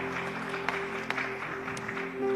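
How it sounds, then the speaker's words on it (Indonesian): Church congregation giving a round of applause, a steady wash of clapping heard at a distance over a low sustained musical hum, with a few sharper claps standing out. "Ya kasih tepuk tangan buat Rafa."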